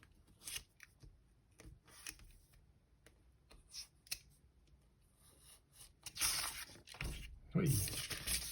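Scissors snip through paper Christmas cottage pieces in short, quiet crisp cuts, spaced irregularly, with louder rustling and handling of paper near the end.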